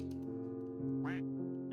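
A short, nasal duck quack from the video game Find the Duck, heard over a steady humming game music loop, with a second fainter quack shortly after.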